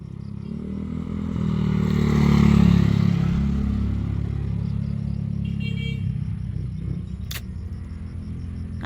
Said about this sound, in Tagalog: Na, dagang kayong motor nangagi no.